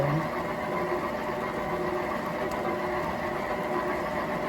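An electric hand mixer whirs steadily while beating banana bread batter, a continuous motorized drone running at even loudness throughout with no pauses.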